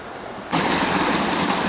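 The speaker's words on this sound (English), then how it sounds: "And you can see the creek continuing here." Rushing water of Tischer Creek in Congdon Park, Duluth, Minnesota, starts abruptly and continues as a steady, loud broadband flow, like a creek tumbling over rocks up close.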